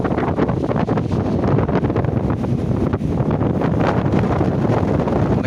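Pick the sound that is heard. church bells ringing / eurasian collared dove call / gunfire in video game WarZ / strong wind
strong wind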